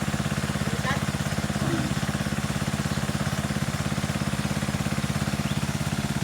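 An engine-driven pump drains a deep fish pond that has no drainage, its motor chugging in a fast, even rhythm close by throughout, with a voice briefly heard over it.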